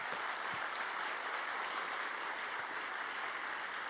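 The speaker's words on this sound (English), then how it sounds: "I do want to have them receive a round of applause from all of us for that" Steady, dense clapping from a large conference audience at the 2017 ACS Quality and Safety meeting fills the room evenly, a sustained round of applause heard from a distance with no talking over it.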